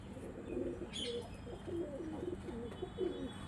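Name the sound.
Chennai breed pigeons cooing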